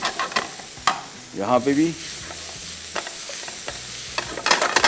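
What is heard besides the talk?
stirring and frying coriander into a spiced filling in a pan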